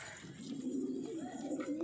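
Low, rolling coos from Punjabi Malwai pigeons, a close, continuous throaty burble that swells slightly toward the end.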